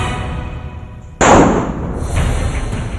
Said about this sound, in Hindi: इस जूते से गोली निकल रही है।